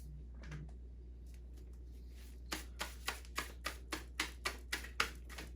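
Tarot cards being shuffled by hand, a faint rustle at first and then a run of about ten crisp, evenly spaced riffling snaps, close up in a quiet room.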